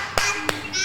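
Two sharp claps, evenly spaced, ring out close by with voices audible around them, part of a rhythmic clapping chant by children in an Islamic religion lesson for second graders.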